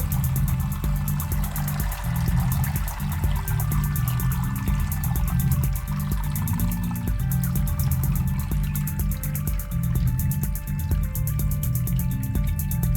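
Water steadily draining through the holes of a seed tray into a lower tray after planting Arabidopsis, a continuous close trickle and patter lasting throughout with no voices.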